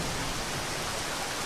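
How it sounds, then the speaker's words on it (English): Steady rain from the video game Zero Sievert hisses in a dense, unbroken wash of even noise, loud and close, with no other sounds rising above it. "we are going to get screwed up by this rain"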